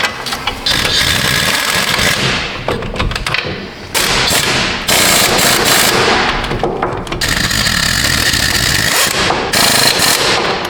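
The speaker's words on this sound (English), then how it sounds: "And then I'll go through and torque all those to factory specs." A power tool tightens wheel bolts on a Nissan Frontier in loud, close, buzzing bursts, with brief pauses between runs and no talk over it.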